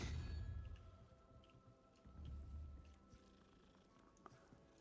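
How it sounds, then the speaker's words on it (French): A cat purrs softly while being petted in the video game Hogwarts Legacy, a faint, low rumbling purr that swells in two brief waves, quiet and close, with no talking. "C'est le best jeu, on peut caresser des chats"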